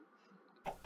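Game chickens clucking in a farming video game, two short close bursts of clucks near the end after a quieter lead-in.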